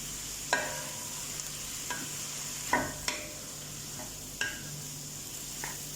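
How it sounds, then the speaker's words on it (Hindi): Vegetables for hakka noodles are stir-fried in a hot pan, a soft continuous sizzle broken by several sharp clinks and scrapes of a spatula against metal at irregular intervals. "एक से 2 मिनट वेजिटेबल को स्टर फ्राई करना है"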